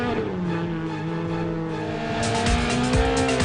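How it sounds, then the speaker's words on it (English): An X-Factory Racing Toyota Yaris all-wheel-drive rally car driving a stage at the 2018 Cattle Country Rally, its engine loud and close with rising and falling revs and a harsh gravelly burst toward the end. "Second car doing the chase down with the big number 1, an X-Factory Racing Toyota Yaris"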